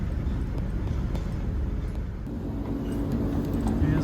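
A vehicle drives along a dirt road beside a camp logging site, with steady low engine and road rumble that stays close and continuous throughout.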